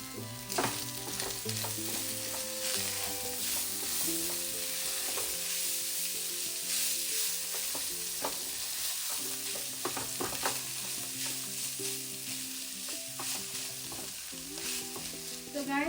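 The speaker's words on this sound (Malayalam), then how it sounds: "അപ്പോൾ നമ്മൾ റൈസൊക്കെ നന്നായിട്ട് മിക്സ് ചെയ്തു" Rice for onion rice being stirred and tossed in a pan, a steady scraping and sizzling that runs without a break, with no talk over it.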